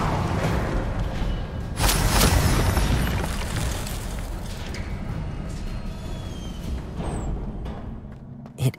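An Incendio fire spell in Hogwarts Legacy bursts with a loud whooshing boom, then fades into a long roaring rush that tapers off, ending with a small pop.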